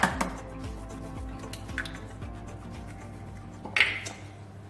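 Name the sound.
mixing choux pastry dough with a wooden spatula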